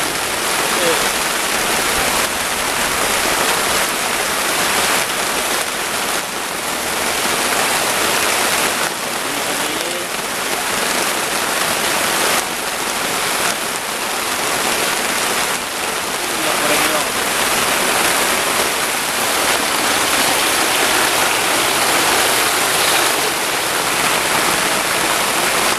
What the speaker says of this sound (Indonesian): Hujannya sangat kencang banget ya teman-teman.